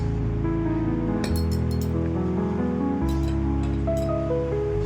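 Spoon stirring cumin seeds into a glass of water, giving bright repeated clinks against the glass in short bursts over a steady background hum.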